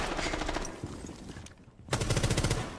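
Gunfire in Rainbow Six Siege, a burst of rapid automatic shots fired through a wall, loud and continuous with a brief gap before the firing resumes.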